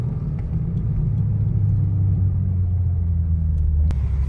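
A BMW M4 idles at night with a deep, steady exhaust rumble, close and continuous, and one faint click near the end.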